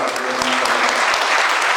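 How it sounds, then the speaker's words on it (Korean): Church gathering audience applauding to welcome guests, a dense, steady wave of many hands clapping loudly throughout, with faint voices underneath. "박수로 환영하겠습니다"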